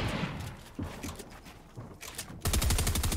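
SMG gunfire in a first-person shooter video game: busy, moderately loud game action with scattered shots, then a sharp rapid automatic burst near the end. No voices are heard.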